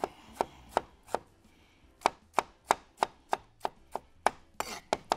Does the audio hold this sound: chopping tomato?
yes